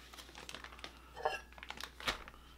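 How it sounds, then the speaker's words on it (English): A plastic bag of cheese curds is cut open at close range, giving faint, scattered crinkles and small snipping crackles in a quiet room. "we're gonna take our cheese curd bag and I'm gonna cut that open"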